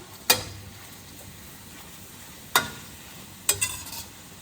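A spanakopita filling of spinach, feta and parsley is stirred in a pan in three sharp utensil scrapes spaced a second or more apart, over a faint low sizzle with no talking.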